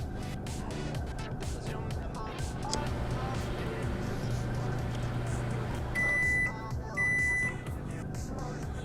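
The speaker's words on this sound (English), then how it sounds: "Now we're going to use light energy, electromagnetic waves of this microwave to heat our food this time." A microwave oven hums steadily while heating food, with a person talking over it, then gives two short, clear beeps close together near the end.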